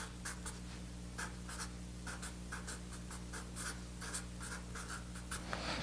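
Pen or marker writing on a board while a timeline of late Meccan events is laid out, heard as a steady run of short scratchy strokes, close and fairly quiet, with no talk over it.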